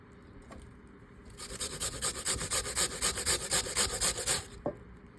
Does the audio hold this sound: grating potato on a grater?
yes